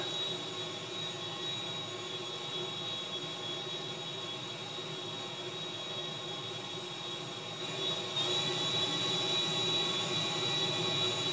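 A steady, loud jet engine roar holds throughout, broadband and unbroken, swelling slightly near the end.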